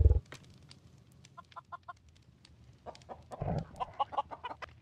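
Minecraft chicken clucking in a game world, a series of short, bright clucks spaced across the clip that grow busier toward the end, moderately close over a low steady background hum, with no voices.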